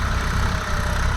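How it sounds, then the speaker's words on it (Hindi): A tractor working a field with a cultivator and a rotavator during paddy harvest, its engine producing a steady, close, loud low throb and churning rumble throughout. "अब कल्टीवेटर भी चल रहा है और उसके साथ साथ रोटावेटर भी चल रहा है"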